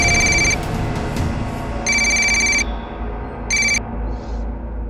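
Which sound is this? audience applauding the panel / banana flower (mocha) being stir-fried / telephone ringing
telephone ringing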